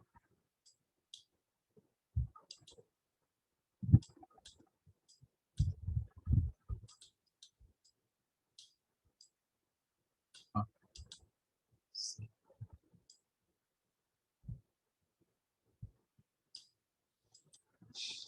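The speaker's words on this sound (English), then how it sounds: "So we are typing our first program" Sparse, irregular keystrokes on a keyboard while a C program is typed, quiet and close with long gaps between clusters of clicks and a few heavier key thumps.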